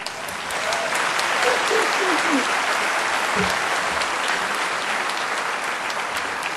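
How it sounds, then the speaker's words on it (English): Sustained applause fills a graduation ceremony hall for electrical and electronic engineering diploma graduates, dense and steady throughout, with a faint voice briefly audible partway through. "I think we deserve a round of applause"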